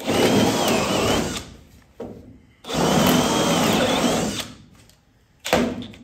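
A Drill Doctor drill bit sharpener runs in a workshop where a racecar is being repaired. It gives two long, steady grinding whirs close by, each trailing off, then a third burst starts.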